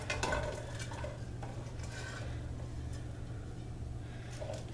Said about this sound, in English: And then I'm going to put in all my onions and peppers that I just chopped.